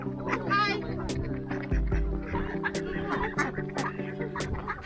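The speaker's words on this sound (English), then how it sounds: "Look at all these ducks." Ducks quack repeatedly nearby at Deer Park Heights, Queenstown, New Zealand, honking calls overlapping against a background hum, with other birds mixed in.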